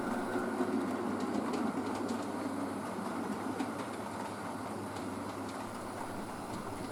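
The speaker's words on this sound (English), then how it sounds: "the crew can watch the passage of an Ivat flying pig heading from Nottingham to the Norfolk coast" An Ivatt 'flying pig' locomotive passes on a model railway layout, making a continuous rumbling roll with faint clickety-clack of wheels, steady and moderately loud throughout, with no voices.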